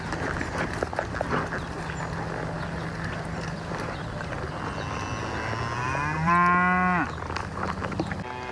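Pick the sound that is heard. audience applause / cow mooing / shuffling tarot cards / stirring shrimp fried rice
cow mooing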